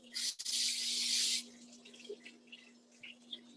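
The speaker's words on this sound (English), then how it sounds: "This is a baking spray I use." A brief, sharp hiss of baking spray onto loaf pans lasts about a second, followed by faint clinks and shuffling in a quiet kitchen.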